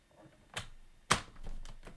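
A paper trimmer slices through card in two short crisp snaps, the second sharper and louder, followed by a faint sliding scrape, close and quiet with no talking.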